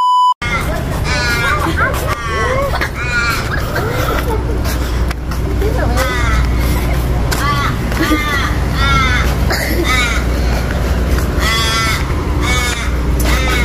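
Crows caw repeatedly outdoors in Fremantle, loud harsh calls in clusters over a busy street background of traffic hum and crowd babble.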